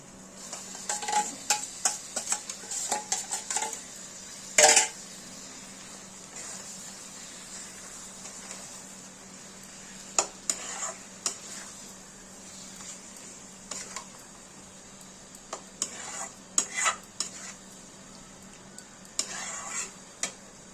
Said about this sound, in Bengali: এখানে আমরা ম্যারিনেশন করা চিকেনগুলো আমরা দিয়ে দেবো।